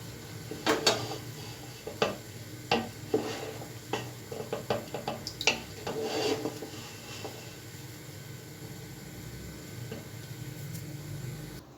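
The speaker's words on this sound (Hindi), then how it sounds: "मैं इसको डिश आउट करता हूँ और उसकी फाइनल लुक आपको दिखाता हूँ।" Chicken chana pulao is served out of a pot with a spoon, a run of close, irregular metallic scrapes and clinks against the cookware that stop midway, leaving a quiet background hum.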